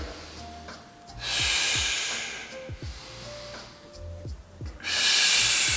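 Forceful exhales during a core exercise, with sharp breathy blows repeating several times and short inhales between them, close to the microphone.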